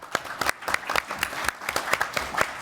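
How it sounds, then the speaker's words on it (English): A room full of people breaks into steady applause for a conference workshop panel, dense overlapping claps with a few sharper hand strikes standing out, fairly close and lively throughout. "I would like to ask for a round of applause for"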